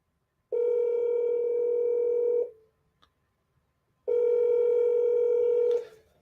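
Two long, steady ringback tones from an outgoing cell phone call sound close and clear, each lasting about two seconds, with a short silent gap between them and no talking.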